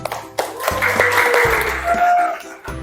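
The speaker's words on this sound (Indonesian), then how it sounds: "tepuk tangan untuk Putri dan Jovan" Applause for the students Putri and Jovan in a classroom, a short burst of clapping from a small group that swells and fades over a few seconds, with faint voices mixed in.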